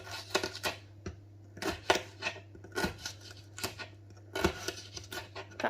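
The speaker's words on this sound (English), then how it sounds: "I'm going to just cut them in lengthways, so just very thin slices" A knife slicing sweet peppers lengthways into thin strips on a cutting board, producing a string of crisp, sharp cuts in irregular bursts against a steady low hum, fairly quiet and close.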